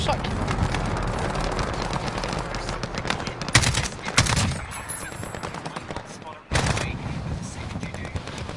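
AK rifle gunfire in an online shooter video game, with loud, dense bursts of rapid automatic shots crackling almost continuously and cut by a brief pause, while a player talks over the shooting.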